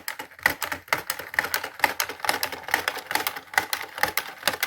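Rapid, steady clattering of a knitting machine carriage sliding across a row, a dense series of sharp mechanical clicks.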